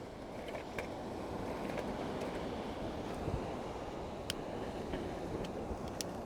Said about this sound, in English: this wind's bad